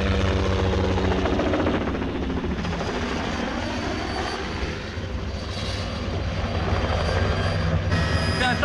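A civil helicopter flies overhead, its steady rotor chop and engine drone loud and continuous with a slight dip midway, alone with no talking.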